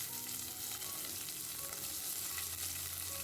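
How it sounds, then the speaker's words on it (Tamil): Cloves, cardamom, a small piece of cinnamon and cashews fry in ghee, a steady close hiss and crackle with faint stirring, no voices. "இதில் ஒரு 3 கிராம்பு, 3 ஏலக்காய், ஒரு சின்ன பீஸ் பட்டையும் சேர்த்துட்டு கொஞ்சமாக கேஷ்யூ நட்ஸ் சேர்த்துருக்கேன்."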